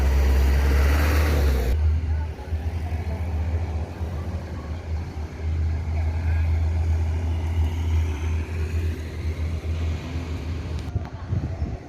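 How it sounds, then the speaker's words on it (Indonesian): A Yoanda Prima intercity coach from Bukittinggi, West Sumatra, pulling into a bus terminal, its deep diesel engine rumbling loud and close with a steady low drone. Talk and crowd noise are heard alongside. "Bus Yuanda Prima udah masuk Terminal Barisodo yang berangkat dari Bukit Tinggi Sumbar"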